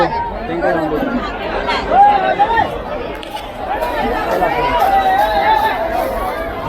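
A busy crowd chatters all around at Sassoon Dock fish market in Mumbai, a steady close hubbub of overlapping voices with occasional louder calls rising above the babble.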